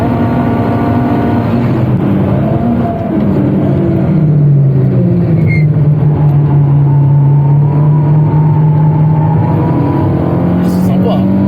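Inside a Peugeot 306 S16, the engine revs hard to about 7000 rpm, a loud, buzzing tone that climbs, dips and then holds high and steady, with people talking over it.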